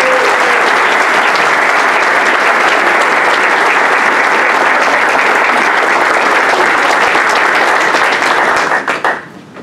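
A board of education meeting audience gives a seventh-grade contest winner a long, loud round of applause, sustained and even for most of the stretch before trailing off into a few last claps.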